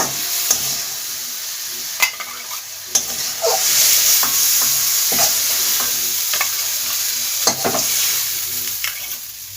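Moringa flowers and eggplant fry in a pan with a steady sizzle, broken by sharp spatula clicks and scrapes as the mix is stirred.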